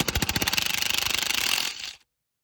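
A power drill spins out a bolt on a Lexus LS460 during an o2 sensor replacement, giving a rapid ratcheting buzz up close that runs for about two seconds and then stops abruptly.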